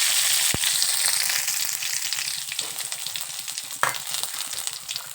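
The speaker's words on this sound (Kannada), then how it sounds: "ಎಣ್ಣೆ ಕಾದೈತೆ, ಅದಕ್ಕೀಗ ಸ್ವಲ್ಪ ಜೀರಿಗೆ ಹಾಕ್ಕೊತೀನಿ, ಸ್ವಲ್ಪ ಸಾಸಿವೆ ಹಾಕ್ಕೊತೀನಿ, ಕರಿಬೇವು ಹಾಕ್ಕೊತೀನಿ" Cumin seeds, mustard seeds and curry leaves hit hot oil with a loud, dense frying hiss and rapid popping crackle, close up, with a couple of sharp spatters and light stirring, no talk.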